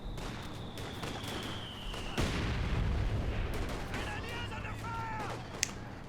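Mortar artillery fires in the Company of Heroes video game, one muffled boom with a low rumble standing out from a steady background of distant battle noise, while a faint voice is heard.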